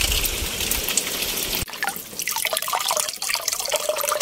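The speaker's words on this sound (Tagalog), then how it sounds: "Tubig na yan." Fresh spring water from the mountains flows steadily on a farm, a soft continuous trickle and splash close by after a brief louder rush at the start.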